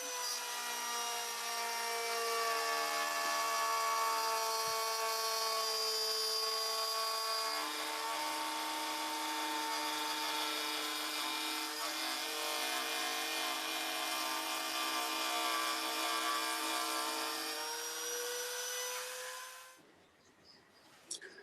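A router cuts a spiral groove into a workpiece held in a spiraling jig, a loud sustained high whine with shifting tone as the cut advances, then the motor winds down and stops.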